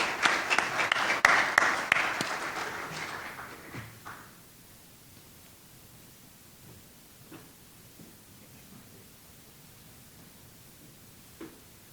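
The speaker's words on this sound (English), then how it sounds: "Please give him a good round of applause." Audience applause at a military coalition forum as a colonel is introduced, a loud burst of clapping that fades after about four seconds into near quiet with a few scattered claps and small room noises.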